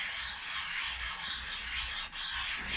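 Carbide is lapped by hand on a soft steel lap, giving a continuous close gritty rubbing with a steady back-and-forth rhythm and one brief dip, with no voices.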